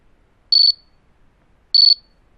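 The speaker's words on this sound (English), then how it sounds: "It is a device that is worn by each member of the group, and when turned on, transmits a constant signal that sounds like this." An avalanche rescue transceiver beacon transmits its signal as two short, clean electronic beeps about a second apart, crisp and close against silence.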